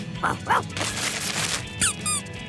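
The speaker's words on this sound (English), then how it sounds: "It's a squeaky toy." A squeaky toy gives several short, bright squeaks at a cartoon birthday party, spaced irregularly over steady background music and effects, fairly close and clear.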